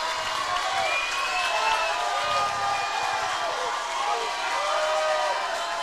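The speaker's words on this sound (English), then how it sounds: "And the Sioux Valley crowd likes that one." Sioux Valley crowd cheering at a Class A SoDak 16 high school volleyball match against Hill City, a steady roar of voices filling the gym while an announcer talks over it.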